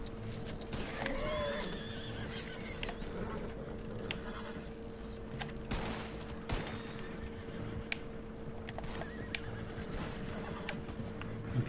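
A horse in a video game whinnies and neighs repeatedly over steady galloping hoofbeats, with a few sharp gunshot-like cracks mixed into the busy game soundscape and little talk.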